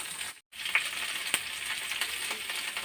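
Tomato pieces frying in a pan for green tomato chutney, a close steady sizzle with a few sharp pops and a brief dropout near the start.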